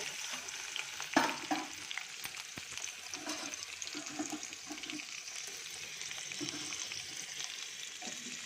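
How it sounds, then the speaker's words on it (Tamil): Onion and curry leaves fry in sesame oil with a steady, close crackling sizzle, a sharp spatter near the start, then a soft, continuous hiss and occasional stirring. "நல்லெண்ணெய் தான் ஊற்றிருக்கேன். இந்த வெங்காயம் இந்த கருவேப்பிலையும் போடணும்."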